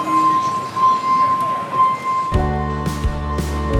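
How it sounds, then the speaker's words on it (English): A train rumbles in close by, its low steady roar and clanking swelling abruptly halfway through, over outdoor ambience with some voices. "When the train comes, we have to come inside a little bit"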